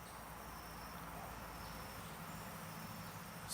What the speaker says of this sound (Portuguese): mosquito incomodando, é verdade